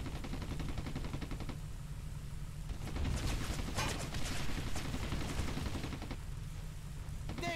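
Suppressive gunfire in Brothers in Arms, continuous rattling bursts of machine-gun and rifle fire aimed at a tank, with heavy rumbling blasts layered in, loud and sustained throughout.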